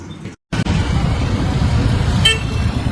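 Busy outdoor road traffic with a constant dense rumble of vehicles close by, and a brief car horn toot cutting through near the end after a short dropout at the start.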